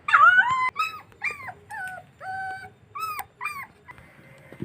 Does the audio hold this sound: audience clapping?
no